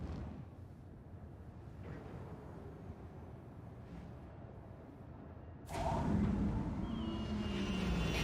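A spaceship in the game Star Citizen touching down on a ground pad: steady low engine rumble, then a sudden louder surge of thrust and hiss with a whining tone as it settles.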